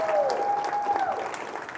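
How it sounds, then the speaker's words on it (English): Audience applause for a performer at a live magic and variety show in Denver, a steady wash of clapping with a faint tonal whistle running through it, fairly close and continuous for under two seconds. "Give her a nice round of applause"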